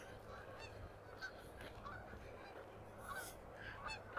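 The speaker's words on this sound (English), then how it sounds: "Lots of geese overhead." Geese honk overhead above Wascana Creek in Regina, a few scattered calls from a small group, faint and distant, with no talk.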